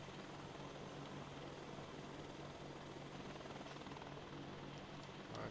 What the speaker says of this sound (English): testing out some helicopters